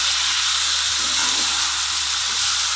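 Ash gourd curry with slit green chilies sizzles steadily in a pan as it is stirred, a loud, continuous frying hiss close up with no speech.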